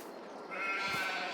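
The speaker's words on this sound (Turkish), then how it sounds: "Şöyle gördüğünüz gibi koyunlarımız da geldi." A sheep bleats once in Farming Simulator 22, a clear, drawn-out nasal call rising over soft background ambience.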